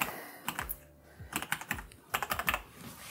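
Someone types a password on a computer keyboard: quick bursts of close, crisp key clicks in irregular clusters with short pauses between them, alone without talk.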